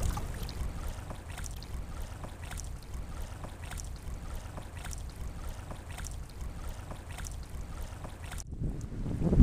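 Steady wind blowing across a lake while canoeing with the wind at the back, a constant low rumble of wind buffeting the microphone with faint water sloshing, heard alone and cutting off near the end.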